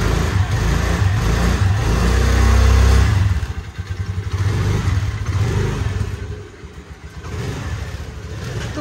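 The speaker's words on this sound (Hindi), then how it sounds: "मैं एक्टिवा निकाल के लाती हूँ।" An Activa scooter's engine rumbles loudly at close range as it starts, then settles into a lower, uneven running note while the scooter is moved out, with no talking.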